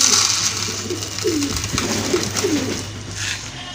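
Fancy pigeons coo softly at morning feeding time, several low, rolling coos spaced across a few seconds over a steady background hum, close by and moderately quiet.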